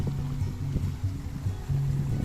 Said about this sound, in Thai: น้ำไหลปุกปุกปุกปุกเลยเนี่ย น้ำไหลดีมากเลย